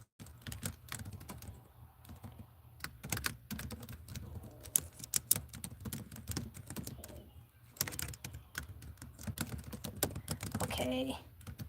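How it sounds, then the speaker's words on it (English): Irregular bursts of close, clicky keystrokes on a computer keyboard with short pauses between runs, fairly quiet, with occasional soft sounds in the background. "I'm typing something in if you cannot hear me."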